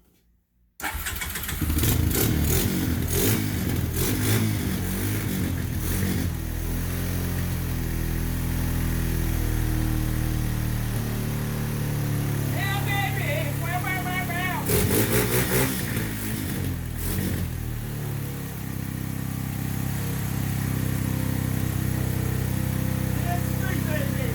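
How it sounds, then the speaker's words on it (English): A Honda TRX 250 ATV engine sputters to life on choke and then runs steadily at a loud idle, close up, with occasional revs and brief mechanical clatter. "I'm going to pull the choke, turn the bike on, make sure everything's clear from the engine"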